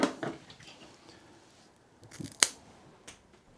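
Scissors cut a small piece off a strip of hook and loop tape, a few sharp snips spaced apart, close and fairly quiet, with the last cut the loudest.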